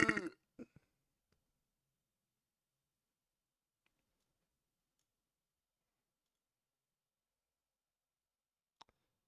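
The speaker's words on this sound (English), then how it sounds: "It was a bit of a nasty burp." A single loud, rough burp erupts right at the start and fades within half a second, followed by a couple of soft clicks and then long near-silence broken by one faint tick near the end.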